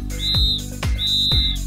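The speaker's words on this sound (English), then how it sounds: "The first choice is a peeless whistle." Two shrill, steady blasts from a pealess safety whistle, loud and close, each about a third of a second, separated by thumping knocks.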